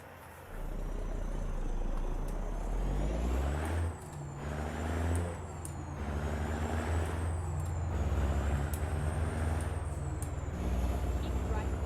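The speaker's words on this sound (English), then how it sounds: "you can kind of hear the gear changes in the trucks now" A heavy truck in American Truck Simulator 1.37, with an added sound mod, hauls a flatbed through Utah: a deep, loud diesel drone rises and falls through repeated gear changes, with a brief hiss of air.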